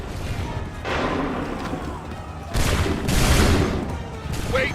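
Musket volleys in the Assassin's Creed 3 video game, two broad crackling bursts of massed gunfire a couple of seconds apart, loud and close, with a rumbling battle backdrop and a short sharp report at the end.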